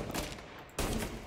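Gunfire in the video game Mafia: Definitive Edition: two loud, close bursts of shots, a short pause between them, with no talk over them.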